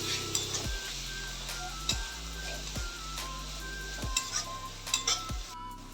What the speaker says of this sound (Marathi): टमाटर घालून घेऊया. त्याला छान परतून घेऊया.